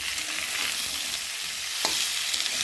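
Ridge gourd frying with spices and chili powder in a pan makes a constant close hiss and crackle, with one brief knock of a utensil partway through and no voices.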